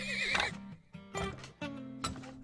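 Horses in the oil-drilling video game Turmoil whinny and neigh several times in a row, loud and close, with brief gaps and faint hoof clip-clop between calls.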